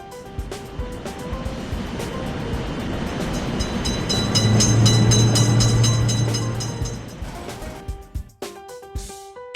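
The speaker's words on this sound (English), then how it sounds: "Train is coming." A train runs past a road crossing with motor-vehicle barriers, a loud sustained rumble and rattle of rolling cars building to a peak mid-way with a low horn-like tone, then fading into quieter clanks and knocks.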